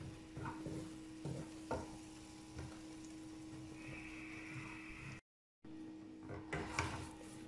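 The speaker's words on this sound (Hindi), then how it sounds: "अब इसमें डाल देंगे मैदा और अब मैदे को रोस्ट करेंगे" Flour (maida) roasting in melted ghee or butter in a pan over a low flame, with a steady soft sizzle, scraping stir strokes and faint utensil knocks, and a brief gap of silence near the end.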